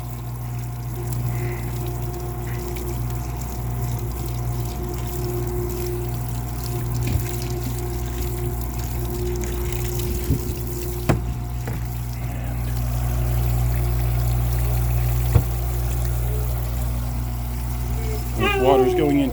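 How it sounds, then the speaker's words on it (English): Water pours steadily into the tank beneath a portable self-contained dog washing tub, a constant trickling hiss with a low hum underneath, loudest near the end. "Water is going into a tank down below her."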